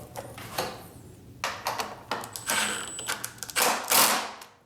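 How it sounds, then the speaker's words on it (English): A bolt being fitted and fastened to hold the top of the gas tank on the frame of a 2006–07 Suzuki GSXR 600, heard as close metallic clicks, rattles and ratcheting bursts in irregular spurts. "now I'm gonna put the bolt back on that holds the top of the gas tank onto the frame."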